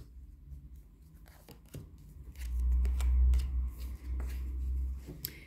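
Tarot cards are shuffled and handled close up, a soft rapid riffling and rubbing that grows louder midway, then a few light flicks as cards are drawn.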